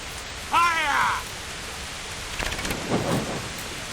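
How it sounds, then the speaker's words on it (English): Steady rain falls in the medieval video game Kingdom Come: Deliverance, a soft constant hiss beneath a brief rising tonal sound and some low rumbling, with faint voices. "It's raining."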